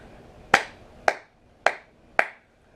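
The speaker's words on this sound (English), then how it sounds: "Clap of applause for The Walking Dead for that scene." Four single hand claps evenly spaced about half a second apart, crisp and close with short decays and quiet between them, from one person clapping in slow applause.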